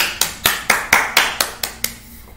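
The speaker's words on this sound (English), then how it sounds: "Give all of our flag bearers a round of applause." Applause for flag bearers at a Catholic school morning assembly: eight sharp, evenly spaced claps ring out close and clear over about two seconds, then stop.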